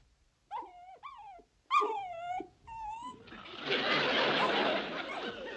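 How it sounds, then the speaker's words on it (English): Daisy Bell, the miller's dog, howls and yelps several times in a rising, wailing voice, heard fairly close, before a broad rushing noise takes over. "Sounds like Daisy Bell, the miller's dog."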